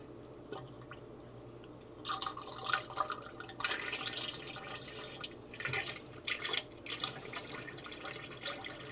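A water and alcohol mixture is poured from a small mason jar too quickly, giving an uneven run of gurgles, drips and splashes that rise and fall for several seconds at moderate closeness.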